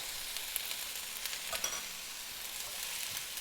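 Onion and garlic frying gently in a pan over low heat, a quiet steady hiss with faint scattered crackles and no voices.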